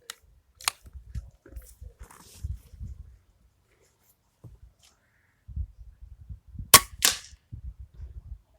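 A .22 sub-12 air rifle fires 15-grain pellets: two sharp, close cracks several seconds apart, with quiet handling thumps and clicks between them.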